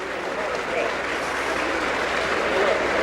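A gallery at a 1984 Players Championship golf final round applauds after a drive, giving steady, full clapping that holds at an even loudness throughout.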